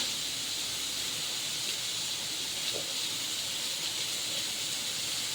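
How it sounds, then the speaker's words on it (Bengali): Food fries in a pan with a steady, even sizzle, a dense close hiss that holds at a constant level throughout with no talking. "ভালো করে ভেজে নেব"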